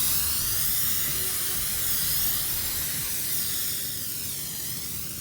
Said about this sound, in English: spray the canola oil onto our pan